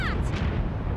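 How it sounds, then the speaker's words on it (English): A deep, loud rumbling boom in an animated cartoon, filling the whole moment, heavy and low like a blast heard close by. "Sounded like an explosion."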